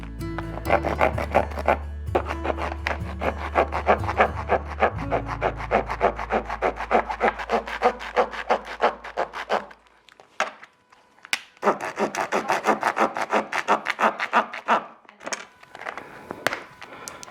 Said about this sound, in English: I have a little bone saw here that I'm gonna start working on.